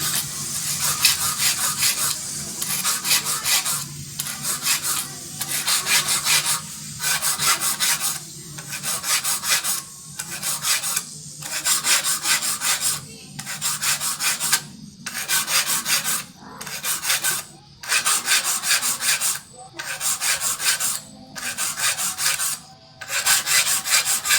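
A hand file rasps across the teeth of a saw blade in repeated rhythmic strokes, each gritty, scraping pass followed by a brief pause, close and loud with no talk.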